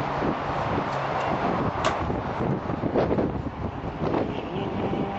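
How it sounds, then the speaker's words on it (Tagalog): Steady wind buffets the microphone throughout in San Francisco within sight of Alcatraz, a constant rumbling roar with occasional gusts and faint background noise. "Lamig ng hangin."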